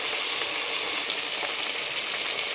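Spices, ginger-garlic paste, potato and mint fry in a pan for tomato rice, giving a steady, close, bright hiss of sizzling oil that stays even throughout with no pauses.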